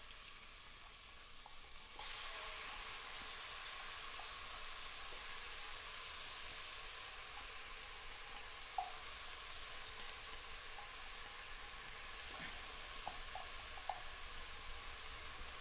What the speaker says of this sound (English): So I'm just going to add my onions in now.